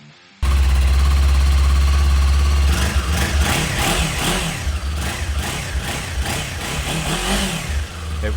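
A 2018 Kawasaki Ninja 400 ABS KRT motorcycle idles with a steady, loud, close engine hum, then revs repeatedly in uneven bursts.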